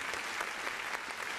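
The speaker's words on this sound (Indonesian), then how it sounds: "Tepuk tangan untuk teman-teman." A brief stretch of dense, steady applause from an audience at an Indonesian Independence Day anniversary event, many hands clapping together at constant loudness.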